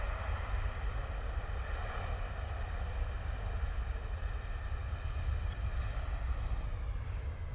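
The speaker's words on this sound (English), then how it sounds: "Another heavy Ryanair landing, eh?" A Ryanair airliner lands heavily on the runway at London Stansted Airport, a loud, steady broadband roar of engine and rolling noise that holds constant throughout, with no talk.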